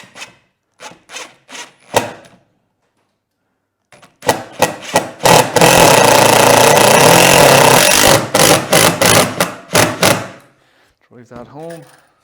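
A power drill drives a screw into a wooden three-legged saw horse, whirring loudly for a couple of seconds amid knocks and handling noise, with a voice talking nearby before and after.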